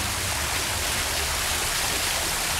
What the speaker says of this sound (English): This is actually a pump making this work. It's not a natural fountain like the ones